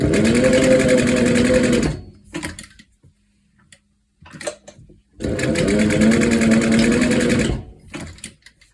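A sewing machine back stitching a leather corset, two loud, close bursts of rapid whirring stitching about two seconds each, separated by a quiet gap with small handling clicks.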